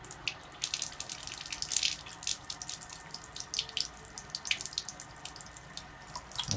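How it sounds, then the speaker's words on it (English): Water runs steadily from the faucet of a KYK 66000 under-sink alkaline water ionizer, a continuous close splashing hiss with small spattering bursts and no talking. "So let's turn on the water."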